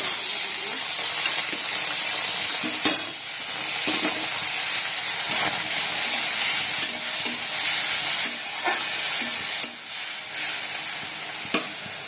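Panch phoron spices and a chili sizzling loudly in hot oil, a dense bright crackle and hiss with intermittent stirring clatter, close up and continuous.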